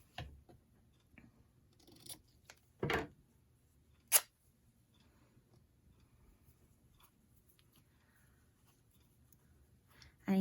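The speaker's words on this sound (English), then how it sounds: "I just want to make sure that I cut this to fit inside that." Scissors snip a paper tag to size in a quiet room, a few short, crisp cuts spaced apart with soft handling rustles between them.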